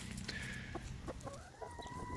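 Chickens in a homemade backyard chicken house, steady clucking and soft calls from several birds, close and moderate, with no one talking.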